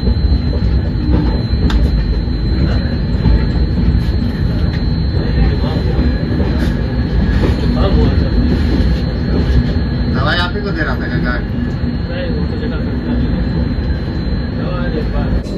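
The Mumbai-Goa Tejas Express runs on its rails. A loud, continuous rumble of wheels and carriage fills the whole stretch, with faint voices now and then beneath the train noise.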